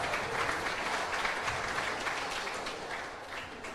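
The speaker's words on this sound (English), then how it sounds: "let's have a huge round of applause for all the players, our winners and runner-ups" Audience at a squash tournament prize ceremony in Indore clapping for the players, winners and runners-up, a sustained, even round of applause from a crowd, moderately loud and tapering slightly at the end.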